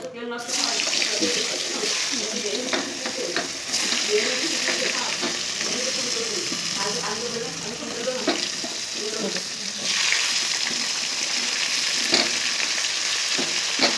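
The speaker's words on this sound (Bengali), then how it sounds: "এবার ফোড়নটা যখনই ভাজা ভাজা হয়ে যাবে তখন আমি আলু আর ডাঁটাটা ছেড়ে দেবো।" Whole cumin seeds crackle in hot oil, with potato and vegetable stalk pieces frying alongside, a steady broadband sizzle filling the whole stretch, rising in spots and broken by faint clinks and some water-like splashing.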